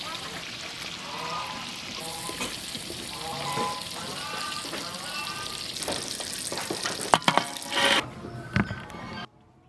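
Pork stewed with quail eggs and a few morel mushrooms in a pot gives a steady, close bubbling sizzle. Brief utensil clatter comes near the end before the sound cuts off, with faint voices in the background.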